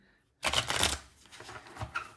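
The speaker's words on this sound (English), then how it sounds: "it's never a bad thing to shuffle them some more, give them a spin" A deck of Adventure Crafter cards is shuffled close up: a dense riffling burst that then settles into softer, irregular sliding and flicking as the cards are mixed further, with no talk.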